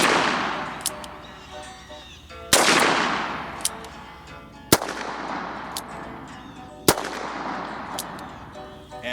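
A Colt Lawman Mk III .38 Special revolver fired deliberately in single action: four loud, sharp shots spaced roughly two seconds apart, each with a long echoing decay, plus fainter distant shots in between.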